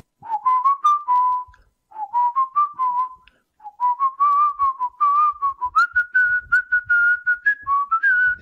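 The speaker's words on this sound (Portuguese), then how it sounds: "Dá até para assobiar." A person whistles a clear, wavering tune in short phrases with brief pauses, close and alone with no other sound.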